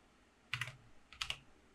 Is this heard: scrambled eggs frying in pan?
no